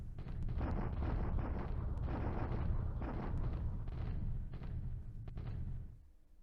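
Artillery bombardment on Clark in the wargame War in the Pacific, a dense, continuous rumble of heavy booms and blasts for about six seconds, then cutting off abruptly.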